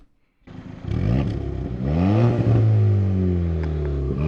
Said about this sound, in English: Let's take a listen to that aftermarket exhaust and get going.